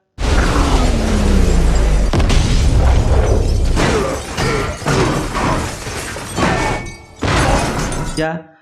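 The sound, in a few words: big explosion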